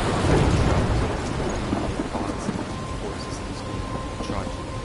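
Heavy rain pours steadily with a low rumble of thunder in a storm scene from the video game Life Is Strange, a dense continuous wash of sound that fades slightly over time.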